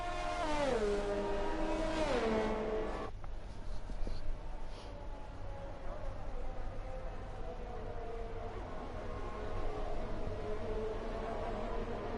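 Formula 1 cars in the F1 2021 racing game run a formation lap on a wet Monza track on intermediate tyres. A loud engine tone sweeps down early, then gives way to a steady roar of engine and road noise.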